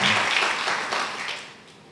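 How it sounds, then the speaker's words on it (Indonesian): Church congregation applauding during a worship service in Batam, a dense wash of clapping that fades gradually toward the end. "Beri tepuk tangan lagi buat Tuhan kita."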